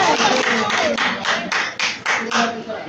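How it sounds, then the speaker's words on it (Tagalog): A group of people clapping hands in short, uneven bursts at close range, with the claps bunching into a brisk rhythm and a few voices mixed in underneath. "Oh, palakpak."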